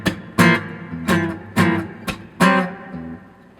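Muted upstrokes and percussive slaps on an acoustic guitar, part of an acoustic song passage: five sharp struck chords with short ringing tails in an uneven rhythm, close and clear with no talking.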